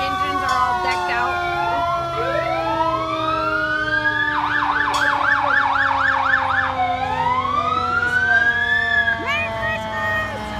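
Christmas-decorated fire engines roll through a residential neighborhood in Hemet, California, their sirens wailing and rising, then a rapid yelp, with several sirens overlapping nearby and people talking in the background.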